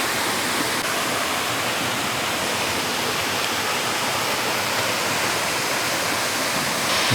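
Water pours at Natural Bridge waterfall in Springbrook National Park, a dense, continuous roar of falling water that stays steady and loud throughout.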